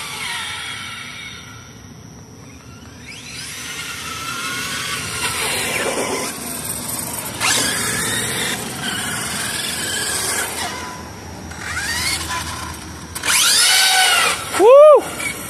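A Traxxas Stampede 4x4 VXL RC truck's electric motor whines and winds up in several bursts, rising and falling in pitch as it makes passes, with a sharp high squeal near the end.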